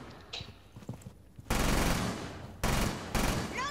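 Gunfire in the video game Rainbow Six Siege: two long, loud bursts of rapid automatic fire, separated by a short gap, come after quieter game noises and faint speech at the start.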